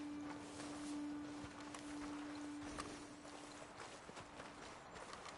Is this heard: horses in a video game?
yes